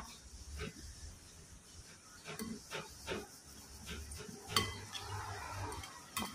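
Shredded chicken larb salad being tossed and mixed in a bowl, with scattered soft clinks, scrapes and rustles at an uneven rhythm, fairly quiet and with no talking.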